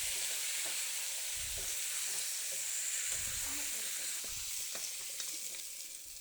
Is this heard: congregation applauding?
no